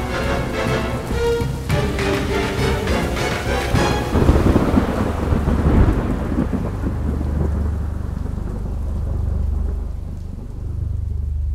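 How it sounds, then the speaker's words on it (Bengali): A loud thunderclap cracks and rolls into a long, deep rumble over steady heavy rain, part of a sound effect in a mythological horror audio drama. "বাজ পড়ার শব্দে সজাগ হওয়ার বদলে"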